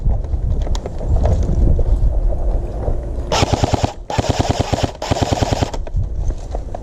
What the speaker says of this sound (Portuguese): A rajada do Matheus agora